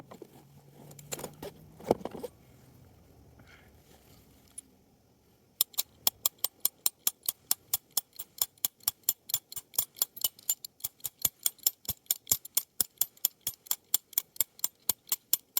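A multi-tool drives a rock climbing wedge bolt into rock with a long run of sharp, evenly spaced metallic clicks, preceded by a few seconds of quieter handling and clinking.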